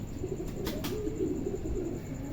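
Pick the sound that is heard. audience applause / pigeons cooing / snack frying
pigeons cooing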